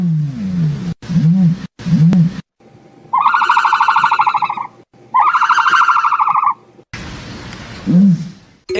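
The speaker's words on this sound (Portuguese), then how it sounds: "Esse é o som da avestruz." An ostrich call: deep, low booming pulses repeat near the start and end, with a loud, high warbling tone in the middle, and no speech.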